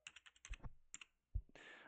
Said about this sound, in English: don't mind all the noise you're hearing because it's me hitting my mic while I'm typing